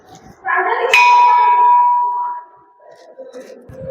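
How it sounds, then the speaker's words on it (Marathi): A large bell at the Rameshwar temple in Alibaug is struck once, close and loud, its bright metallic tone ringing out and fading over a couple of seconds against faint crowd noise. "घंटा बघा किती मोठी आहे."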